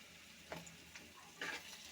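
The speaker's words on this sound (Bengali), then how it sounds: "ভালো করে এটা আমি তেলে পেঁয়াজের সাথে মিশিয়ে ভেজে নেব" Chopped onion frying in oil with ginger and garlic paste for a bottle gourd curry, heard as a soft, faint sizzle broken by a few short scraping bursts of stirring, with no talking.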